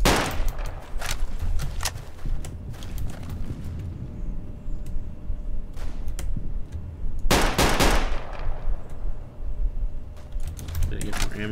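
STG-44 assault rifle gunfire in the Roblox game Unit 1968, bursts of rapid shots with loud sharp cracks amid constant battle noise, mixed under someone talking.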